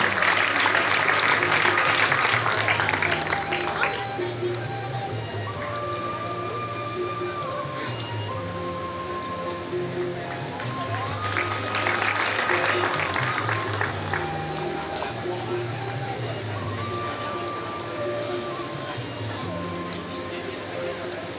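Applause greets an award winner at a community honours ceremony, with clapping rising at the start and again near the middle. Talk and background sound continue between the bursts.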